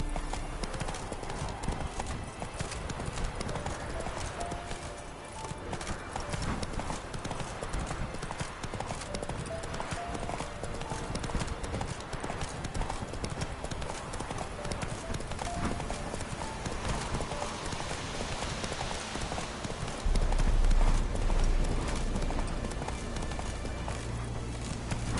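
Roach, a horse in The Witcher 3, gallops with steady rapid hoofbeats under layered game ambience and music, with a brief louder low rumble near the end.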